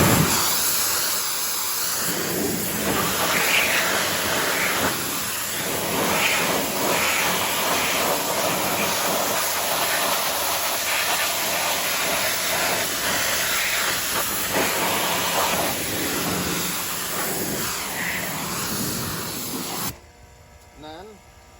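A CanPump 1900 PSI 220V 3.0 HP electric pressure washer runs with a loud, steady spray hiss and motor drone for about twenty seconds before abruptly cutting out near the end.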